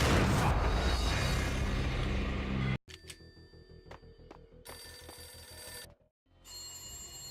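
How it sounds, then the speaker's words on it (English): An old telephone rings in the Max Payne video game, a repeated electronic ring in bursts with short gaps, following a loud rumbling burst at the start. "A beaten-up phone in the entrance."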